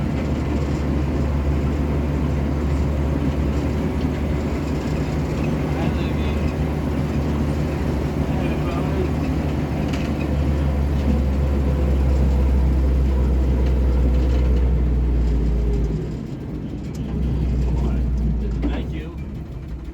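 M16 halftrack driving, its engine running loud and steady with a low rumble throughout and a brief drop in level suggesting a gear shift partway through; no talking in the clip.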